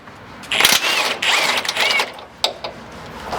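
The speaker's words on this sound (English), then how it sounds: "you need a 17 either socket or wrench, depending on how you're going about this" A 17 mm socket wrench works a bolt on the gas tank skid of a third-generation Toyota Sequoia, giving close, bursty ratcheting clicks in short runs with brief pauses between.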